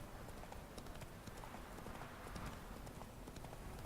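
Horse hooves clip-clop at a quick, steady gallop in The Witcher 3, a rhythmic run of hoofbeats that continues faintly under game ambience for the whole stretch.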